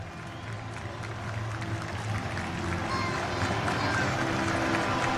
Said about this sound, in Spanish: El aplauso del público para recibir a Olimpia y Guaraní aquí en el país.